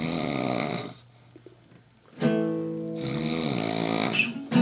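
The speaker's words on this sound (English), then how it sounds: "He's snoring." Loud, rough snoring fills the start and end, with a quieter pause of breathing between two long snores. The sound is close and steady, and no one speaks.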